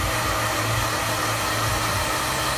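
A hair dryer blows steadily while a brush works through a man's hair during a haircut, giving a loud, unbroken close-up whir.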